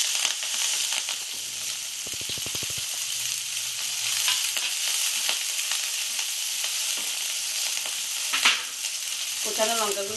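Onion pieces drop into hot oil already tempered with whole cloves, giving a steady close crackling sizzle with a brief burst of stirring and a spatter partway through, no talk over it.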